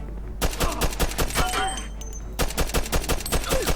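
Bursts of gunfire in Mafia 2 Definitive Edition crack out in rapid repeated volleys, some shots in tight clusters, loud and close, with brief pauses between.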